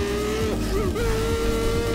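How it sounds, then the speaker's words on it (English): Car driving in a Roblox game, a steady loud engine drone holding a sustained tone with small pitch dips, running continuously throughout. "This dude is literally driving a flipping car."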